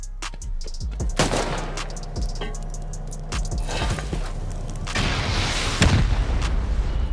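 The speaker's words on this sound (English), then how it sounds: "It's all the rockets, bro." Rocket explosions pound a giant open-core pyramid during a raid in a survival video game: dense, overlapping booms and blasts in a continuous barrage, loud and close with rumbling tails.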